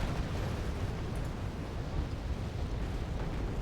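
Bombing run explosions in Wargame Red Dragon, a continuous low, rumbling roar of distant blasts blending into a dense, steady, fairly quiet din without distinct separate hits.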